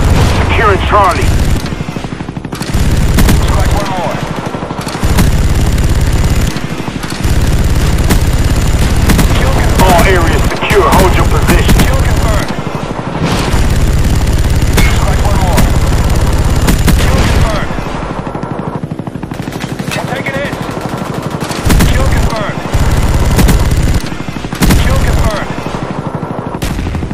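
Video game combat in a jungle setting with loud, dense bursts of machine-gun fire and heavy booming napalm explosions, broken by brief pauses, with voices talking over the action.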